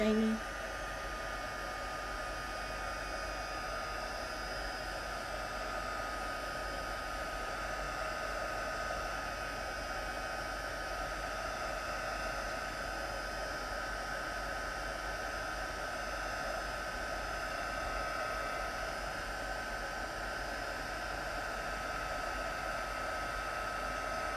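A heat embossing tool blows a steady, even rush of hot air over embossing powder, sounding like a small hair dryer held close and running continuously for the whole stretch.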